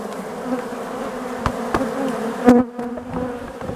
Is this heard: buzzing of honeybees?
yes